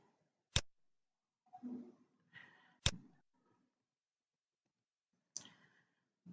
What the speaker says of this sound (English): Click on next.